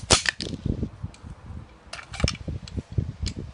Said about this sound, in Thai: ก็คือเอาไปยิงแห้งได้เลย จะเป็นซิงเกิลหรือดับเบิล ก็ได้นะครับ